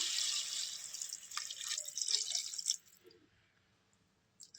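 Water is poured into a pan of fried mutton, a close splashing rush that fades after about three seconds into near silence, followed by a few faint drips.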